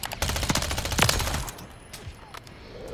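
Rapid bursts of Striker 9 SMG fire in a shooter game, a dense rattle of shots over the first second and a half, followed by scattered single cracks and quieter game ambience.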